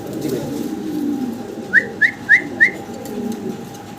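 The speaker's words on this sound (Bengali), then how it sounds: "সাদা এক পেয়ার কবুতর আছে এখানে" Four short rising coos from a white pigeon in quick succession, clear and close, over a low steady background hum.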